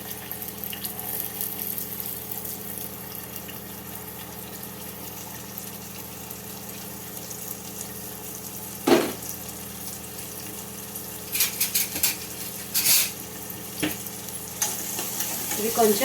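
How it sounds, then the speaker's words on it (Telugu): Chopped onions fry in a pan of oil for a tomato ridge gourd curry, giving a soft steady sizzle with occasional stirring clatters and scrapes near the end, and a voice speaking briefly at the start. "ట్రాన్స్పరెంట్ అయ్యేంత వరకు ఫ్రై చేసుకోవాలి."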